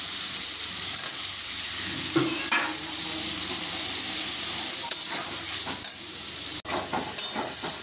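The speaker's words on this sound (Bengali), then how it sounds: "মশলাগুলো কষিয়ে নিয়েছি আলু দিয়ে" Spice masala with chili powder and turmeric sizzles steadily as fried potatoes are stirred through it in a pan for a Bengali katla fish curry, with scraping strokes and bursts of frying throughout.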